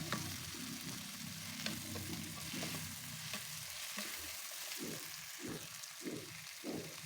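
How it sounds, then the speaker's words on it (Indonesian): Cut bitter melon is stir-fried in a pan, with a steady loud sizzle under rhythmic scraping and stirring strokes that grow more regular toward the end, and no voices. "Baru deh kita masukkan pare yang sudah dipotong-potong."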